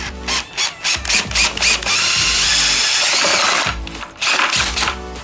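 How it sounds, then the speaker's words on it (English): A power drill running in reverse whirs in several short bursts, runs steadily for about two seconds, and then gives a few more quick pulses. It is loud and close. "Making sure your drill's in reverse."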